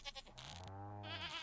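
A goat bleats in the Stardew Valley farming game, a short wavering cry close up, alone with no talk over it.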